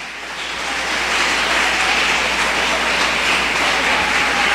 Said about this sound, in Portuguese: Você pode aplaudir ele?